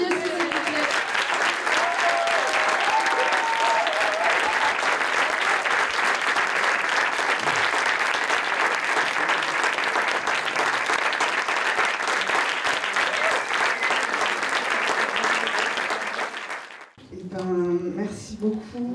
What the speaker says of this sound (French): Ah super, on applaudit aussi s'il vous plaît.